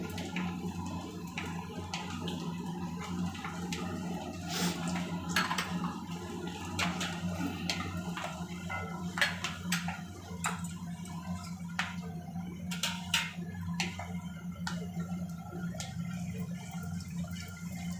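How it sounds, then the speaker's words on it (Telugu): Lentils frying in oil, with many small crackles and pops scattered over a steady low sizzle, close up and fairly quiet, with no talking. "నూనెలో చూడండి బాగా ఏగుతుంది చిట్టుపట్టలాడుతూ ఉంది"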